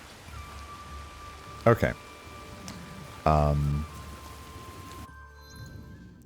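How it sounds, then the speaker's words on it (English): Heavy rain pours down in the game Assassin's Creed Shadows, a steady hiss throughout, briefly interrupted by short bursts of louder sound and a voice speaking once. "I'm getting feedback from the controller because I'm being very heavily rained on"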